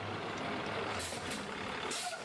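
Air brakes on a school bus release sharp hissing bursts over a steady engine idle, with the loudest hiss near the end.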